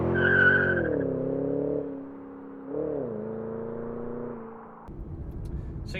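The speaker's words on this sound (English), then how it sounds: "I do a lot of burnouts." A 2007 Ford Mustang GT/CS doing a burnout, the engine holding a steady high drone with tires squealing, dipping and rising once, then breaking into rougher noise near the end.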